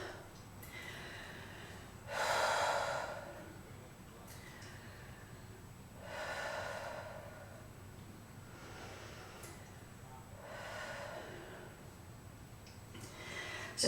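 Slow, audible breathing during a held yoga pose in a slow-flow vinyasa class, three long, fairly soft breaths spaced several seconds apart over a quiet room hum.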